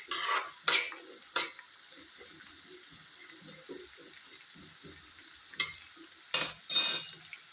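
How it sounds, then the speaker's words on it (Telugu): Bitter gourd fries in a pan on a low flame while a metal spatula scrapes and clinks against it in sharp, irregular strokes, with a faint sizzle underneath. "మరి ఎక్కువగా మాడిపోకుండా ఈ విధంగా మనం వేయించుకోవాలండి"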